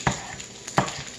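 Food cooking in a frying pan, with soft sizzling and two short stirring or scraping bursts close by, and no voices.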